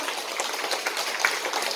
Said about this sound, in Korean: 여기 공감하신 박수 한번 보내주세요.